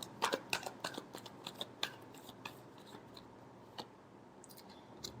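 A deck of tarot cards is shuffled, producing a quick burst of crisp, close flicking clicks that thins into a few scattered taps and a quiet pause.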